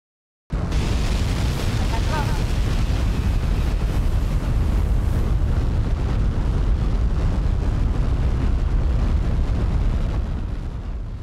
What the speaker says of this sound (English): Like those engine sounds, wow.